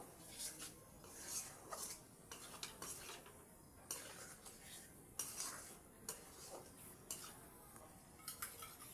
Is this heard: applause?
no